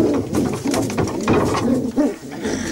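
Pigeons coo continuously in a loft, the low throaty calls overlapping loudly and close by.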